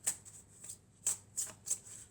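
Oracle cards being shuffled by hand in a quiet room, giving several crisp, papery riffling bursts spaced irregularly over about two seconds, close and fairly soft with no talking.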